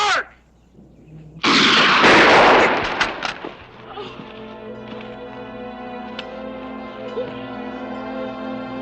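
A single sharp gunshot rings out close and loud in a western television drama, then a short echoing tail fades into a quiet, humming background.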